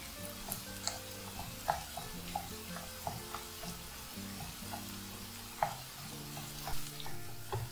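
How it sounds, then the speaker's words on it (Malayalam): Onions sauté in hot oil for a Malabar restaurant-style egg curry, a steady sizzle broken by regular scrapes and taps of a spatula stirring the pan. "അതിനുശേഷം നമുക്ക് ഉള്ളിയുമായിട്ട് ചേർത്തിട്ടൊന്ന് വഴറ്റിയെടുക്കാം."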